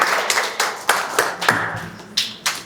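A scattering of hands clapping after a career talk, with about eight sharp, uneven claps over a couple of seconds, fairly close and without speech.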